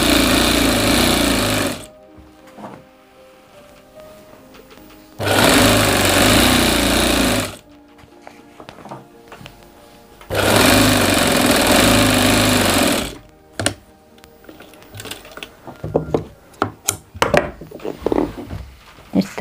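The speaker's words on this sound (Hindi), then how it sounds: "इस पर डबल सिलाई लावांगे।" A sewing machine double-stitches a men's kurta pajama in three loud, close bursts of a few seconds each, separated by pauses filled with fabric handling and small clicks.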